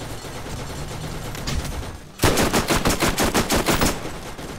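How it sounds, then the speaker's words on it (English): Rapid automatic gunfire from a gun in the video game Borderlands bursts in loud and close after a quieter stretch of game ambience, a fast rattling string of shots. "that's an interesting gun"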